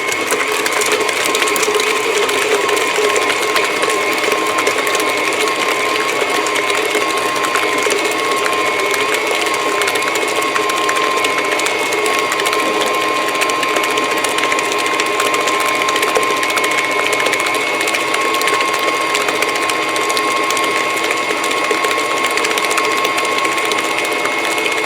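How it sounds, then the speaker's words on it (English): A stand mixer whirs steadily while beating cheesecake batter, its motor hum and rattling mechanism loud, close and continuous throughout with no voices. "we're going to turn the speed up 1 more notch on the mixer"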